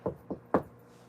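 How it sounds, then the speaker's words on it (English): Three distinct knocks on a front door, evenly spaced and close, the last slightly louder, with quiet room tone afterward. "There was a knock at the front door."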